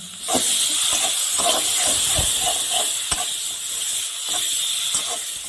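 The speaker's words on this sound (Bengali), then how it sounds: "এবার এটাকে আমি ভালো করে কষিয়ে নেব।" Ginger, garlic and tomato paste fries in a pan for a spinach and prawn dish. It gives a steady, bright sizzling hiss throughout, broken by soft intermittent stirring taps.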